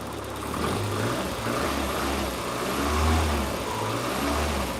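A built Toyota 4AGE engine idles steadily after a cold start, a low continuous drone with slight rises and dips in pitch, heard from moderately close with no talk.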